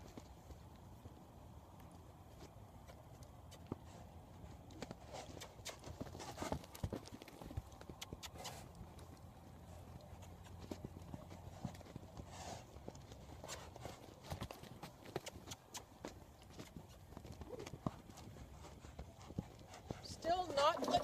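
Horse's hoofbeats loping in a circle on a lunge line, a steady muffled clip-clop at moderate distance under a handler's occasional talk.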